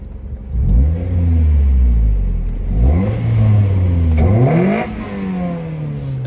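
A car engine with a modified exhaust revs hard several times, pitch climbing and dropping between pulls, with a deep throaty exhaust roar and intake noise close by and no talking.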